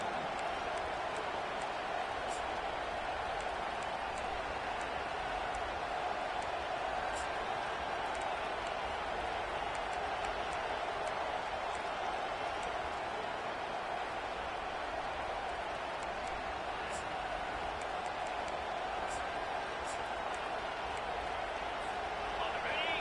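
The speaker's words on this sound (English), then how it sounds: "This crowd busting the decibel meter and trying to will a 4th down stop." Loud college football stadium crowd roaring ahead of a fourth-down play against Alabama. A dense, continuous wall of cheering holds at an even level throughout, with indistinct voices mixed into the din.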